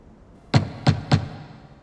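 A small rock knocks three times on a solid door, sharp hollow thuds close by with a brief pause between each, then quiet.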